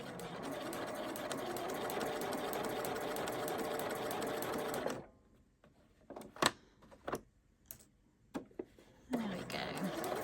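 A sewing machine stitches a curved seam in a fast, steady whir for about five seconds, then stops; a few short clicks and bursts follow as the fabric is realigned.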